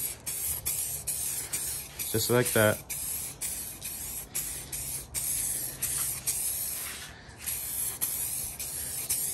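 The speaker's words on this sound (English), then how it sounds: "just spray it on like you're spray painting anything" Spray paint from an aerosol can applied at home for a professional-looking finish, short close hissing bursts repeated through the clip, with a person speaking briefly.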